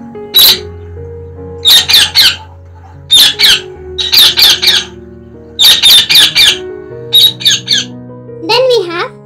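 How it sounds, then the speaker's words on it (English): A parrot gives a series of loud, harsh squawks in about eight repeated bursts of two or three calls each, close and alone, ending with a higher, wavering squeal. "The sounds that a parrot makes are squawk and talk."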